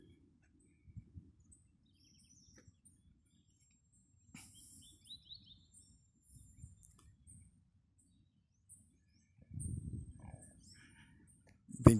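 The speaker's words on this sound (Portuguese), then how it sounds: "Vários cânticos de pássaros que louvam a Deus" Scattered, faint bird chirps and short high calls sound outdoors over a low, murmuring background, growing a little busier toward the end.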